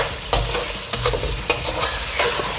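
Lightly fried vegetables stirred into chilli paneer in a hot pan, giving a close, loud sizzle with rhythmic scraping strokes and a few sharp spatula clacks, with no voices.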